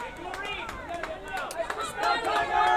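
Fans at a high school field hockey state quarterfinal, Maine Endwell against Mamaroneck, shouting and cheering their team on in a loose, busy hubbub with scattered whoops and voices, rising slightly toward the end.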